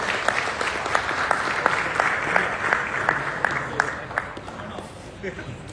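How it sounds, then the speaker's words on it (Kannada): Sustained applause from an event audience greeting producer KP Srikanth, dense and steady with sharper individual claps standing out, fading slightly toward the end; a voice is faintly audible underneath. "KP ಶ್ರೀಕಾಂತ್ ಸರ್ ಒಂದು ದೊಡ್ಡ ಚಪ್ಪಾಳೆ ಪ್ಲೀಸ್"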